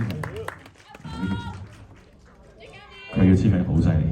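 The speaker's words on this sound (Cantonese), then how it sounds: "我哋再次俾啲掌聲，我哋4位演員好唔好" An audience claps for four actors at a Malaysian cinema thank-you screening, with the applause swelling near the end while a host speaks over it.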